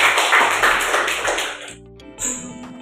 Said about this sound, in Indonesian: Beri aplaus dulu untuk kita semua.